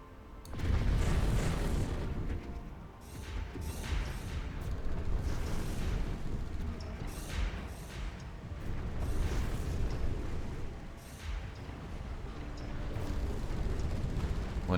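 Space battle in the strategy game Stellaris, with carriers, strike craft and frigates firing neutron launchers: a continuous rumbling wash of distant booms, blasts and mechanical noise, with repeated impacts rising and falling throughout and no talking.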